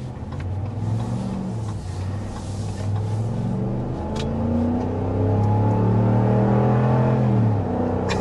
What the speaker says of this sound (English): Just a little preview as we climb up the hill here and stop at this red light. Obviously, plenty of power, as you'd expect. This is the Hemi V8.